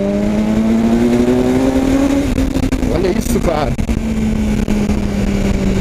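BMW S1000 R motorcycle engine on a test ride, a steady loud drone whose pitch climbs gradually as it accelerates, continuous throughout with someone talking over it.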